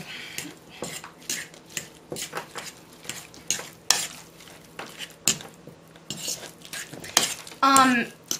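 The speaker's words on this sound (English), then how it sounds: "I'm going to add a little bit more than that, and I'm going to mash that up." Potatoes being mashed with cheese in a pot give repeated soft squishing stirs and scraping clinks of utensil on cookware, close and fairly loud, with a brief high scrape near the end and no talking.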